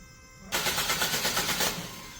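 The starter of a 2012 Renault Samsung New SM5 LPI, which has a stalling fault, kicks in suddenly and cranks with a rapid, rhythmic pulsing whir, close and loud, without the engine catching.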